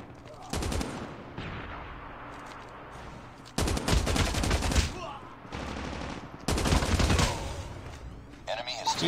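Rapid automatic gunfire bursts from a weapon in Call of Duty Mobile, loud and close, in several long sprays separated by brief pauses, with game sounds underneath.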